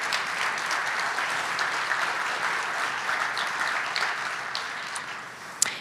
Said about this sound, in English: So let's give all of the business and business owners a round of applause